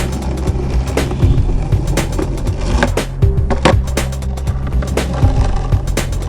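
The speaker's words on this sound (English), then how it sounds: "I listen for a pop, and then I think about doing the flick" Skateboard pops and rolling wheels during fakie kickflip practice, with repeated sharp close wooden snaps and clacks over a steady rumbling roll, loud and near.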